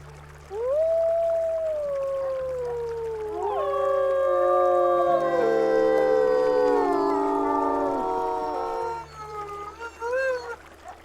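In the WolfQuest video game, a pack of wolves howls together in long rising and falling tones, with dogs joining in; the layered chorus is loud and sustained, fading out into a few scattered yips.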